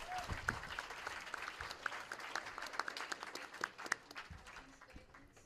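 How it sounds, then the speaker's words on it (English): An audience at a Culver City Democratic club forum claps for the speakers, a dense, fairly distant round of applause that swells, then thins and fades over several seconds. "Let's give them a round of applause."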